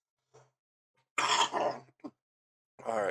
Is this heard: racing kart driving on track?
no